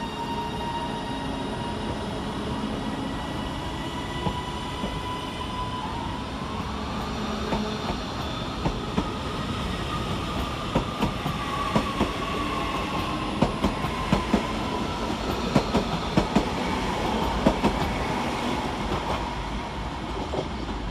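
A Northern Class 331 electric multiple unit departs Manchester Oxford Road station, a loud steady rumble of wheels on rails with a rising motor whine and rhythmic clicks over the track joints, with no talk.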